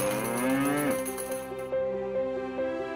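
A cow moos in one long, loud, drawn-out low call that falls in pitch, heard alone with a faint ringing tone underneath.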